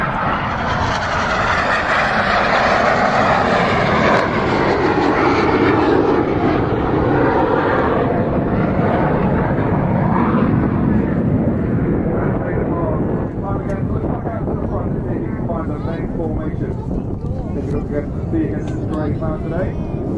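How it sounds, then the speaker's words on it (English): Red Arrows jets making their final pass at an airshow, a loud roaring jet rumble that swells and then slowly fades into the distance, with a commentator talking over it. "here's Synchro for their final pass of the show"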